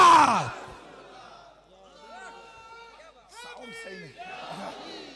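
A crowd at a Rabi ul Awwal religious gathering roars back a chanted response to a Naara-e-Takbeer call, with a loud burst at the start, then a wave of many overlapping raised voices rising again toward the end.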